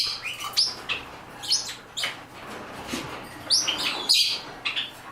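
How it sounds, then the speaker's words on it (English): Several small birds, including a Bourke's parakeet, chirp and tweet in quick, bright bursts, close by and fairly loud, with brief pauses between flurries of calls. "All the other birds are anxious to come out."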